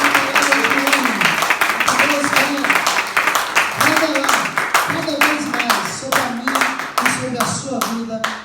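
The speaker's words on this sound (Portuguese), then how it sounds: "Aplauda o Senhor." Church congregation clapping and applauding together, a dense rhythmic patter of many hands filling the room, with a voice talking and singing over it throughout.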